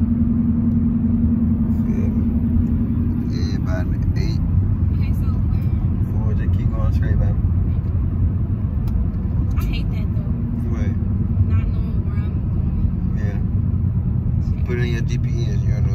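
A car drives down a parkway, its steady low engine rumble and road noise filling the cabin continuously while people talk over it.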